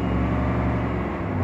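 A one-off Chevrolet 3100 pickup with a Z06 engine drives along a road over a bridge, giving a steady low engine rumble and road drone that holds even and unbroken throughout.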